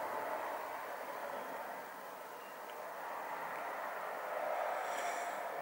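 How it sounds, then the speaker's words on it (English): A train passes near a station as a steady, fairly faint wash of rumble and rushing noise that swells slightly toward the end, with no voices. "so trains are always going past, which is this."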